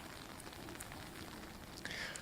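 Steady rain falls outdoors during a passing thunderstorm at the Crans-Montana resort, a dense, even hiss that fills the whole stretch at moderate level, with no distinct drops standing out.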